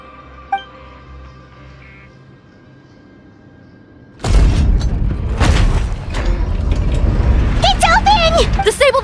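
Sluice gate forced open in Genshin Impact, a sudden loud mechanical boom and heavy rumbling grind after a quiet lead-in, continuing with dramatic sound effects and voices shouting over it.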